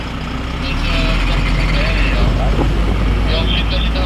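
A Griffon armoured vehicle starts up and drives, its engine giving a loud, steady low rumble and whine close by with faint mechanical clatter, while a person talks over it.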